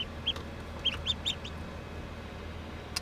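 Newly hatched chicks in an incubator give a few faint, short, high peeps scattered over a quiet background hum.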